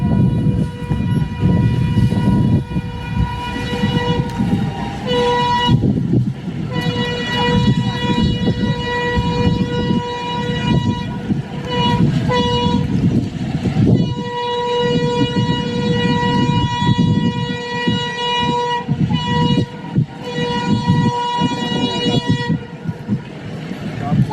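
The Rehman Baba Express passes Landhi railway station in Karachi, a loud sustained horn blaring in long repeated blasts over the heavy rumble of rolling wagons.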